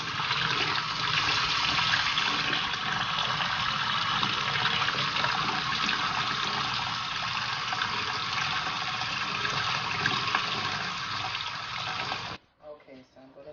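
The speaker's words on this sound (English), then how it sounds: "I'm going to run some cold water here to stop the chicken popping" Cold water pours from a kitchen tap over freshly cooked potatoes for potato salad, a steady loud rushing splash that runs for about twelve seconds before cutting off abruptly, leaving faint drips.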